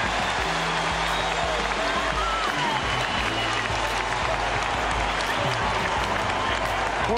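A large indoor basketball arena crowd at the NBA draft cheers and applauds steadily, a dense roar of clapping and voices filling the space throughout.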